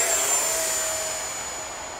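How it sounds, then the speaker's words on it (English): An Arrows Hobby BAE Hawk EDF model jet passes at half throttle, a steady, loud ducted-fan whine and rush that fades slightly as it moves away. "So get that glide pattern going again, so I'm going to bring it past. Just down to about half throttle there."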